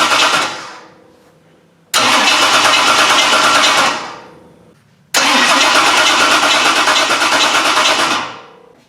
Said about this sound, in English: I'll turn this thing over for the first time, and you guys can listen in